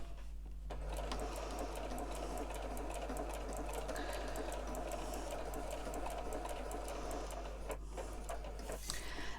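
A sewing machine quilting a Christmas stocking panel in white thread runs in a steady, close, continuous whir for the whole stretch, with a low constant hum beneath and a brief rise in clatter near the end.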